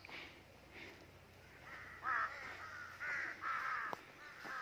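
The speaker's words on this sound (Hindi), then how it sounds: "इस वक्त कौवे हैं इस एरिया में, क्रो, उन्होंने थोड़ी सी अयाशी मचाई है।" Several crows caw in a forest in Murree, harsh calls repeating at irregular intervals over a low background hum, some nearer and louder than others.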